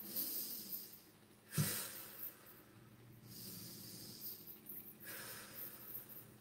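A slow, audible exhale out the mouth during chair yoga, heard as a soft, close breathy rush that repeats a couple of times against quiet room noise.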